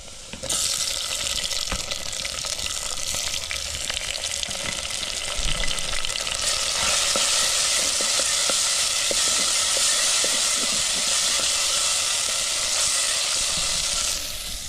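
Tomatoes dropped into a pan of frying onions set off a loud, steady sizzle with a bright hiss that swells and holds near the mic for the whole stretch, with no one talking.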